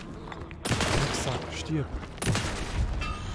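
Several gunshots are fired at an enemy in the video game Alan Wake 2, sharp booming blasts in quick succession with someone speaking German over them.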